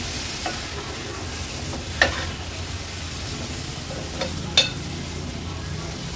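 Washed prawns sautéed in ground masala for an Agri Koli cucumber prawn curry give a steady close frying hiss, with a few sharp spoon scrapes against the pan along the way.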